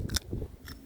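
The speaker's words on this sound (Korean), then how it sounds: "당근이 아삭아삭하고" A bite into a crunchy fresh garden carrot, two quick sharp crisp snaps close to the ear, the second softer, with faint chewing between.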